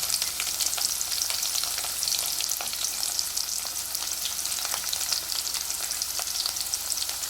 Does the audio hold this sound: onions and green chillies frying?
yes